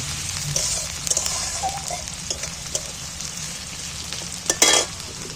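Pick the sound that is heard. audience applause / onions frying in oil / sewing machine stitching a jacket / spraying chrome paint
onions frying in oil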